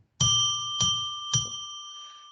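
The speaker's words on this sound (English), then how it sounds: "Why don't we ring a bell 3 times to declare sacred space" A bell rings out three times in slow succession, each bright, clear strike sustaining a long shimmering tone that decays between hits, close and alone.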